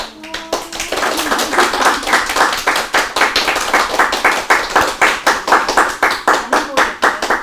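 A lecture audience at a Buddhist dharma talk by a monk claps in unison, a fast, sharply regular beat of loud, close hand claps that continues steadily for several seconds after a brief start.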